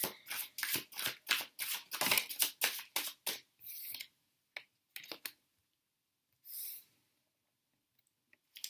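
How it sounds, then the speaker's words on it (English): Quick, crisp riffling and slapping of tarot cards being shuffled, repeated in bursts for several seconds, then a few soft taps and a brief swish, close and fairly quiet. "I'm going to just shuffle more cards out"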